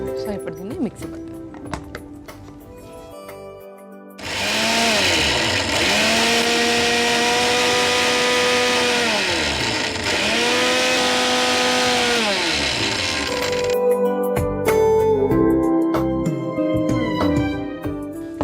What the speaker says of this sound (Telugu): సో ఇప్పుడు దీన్ని మిక్సీ పట్టాలి.